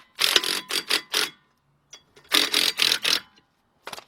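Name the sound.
power driver with 13mm socket loosening brake rotor bolts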